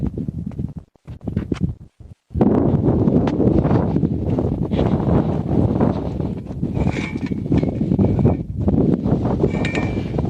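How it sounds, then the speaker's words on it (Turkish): Steady broadband wind roar buffeting the microphone outdoors in a garden, loud and continuous after a brief quieter start, with faint rustling and occasional clinks. "Bugün de bayağı bir rüzgar var."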